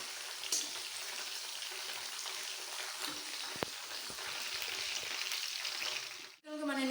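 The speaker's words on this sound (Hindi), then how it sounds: "इसी तरह मैं दूसरा चिकन भी फ्राई कर लेती हूँ।" Chicken pieces frying in hot oil in a pan give a steady, close crackling sizzle that runs nearly unbroken, with a brief clatter and a sudden hush near the end as the pan is disturbed.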